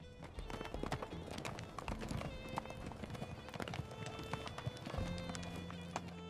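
Herds of horses and livestock move through a wind-swept mountain valley, with many hooves clip-clopping steadily and densely at a moderate distance, plus scattered knocks and faint whinnies, and no voices.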